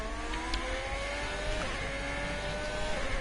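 Racing cars overtaking at the Britain circuit in a racing video game, close engines droning and shifting pitch as they pass each other, loud and continuous.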